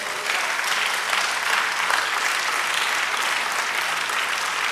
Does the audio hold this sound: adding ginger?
no